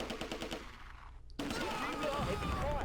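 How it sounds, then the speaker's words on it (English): Mortar barrage and small-arms fire in the WWII strategy game Close Combat II, a steady crackle of shots that cuts out briefly, then returns as a loud, dense rumble of explosions and gunfire. "You'll see that this mortar fire coming down, it's not actually direct fire, it's just going to be a barrage."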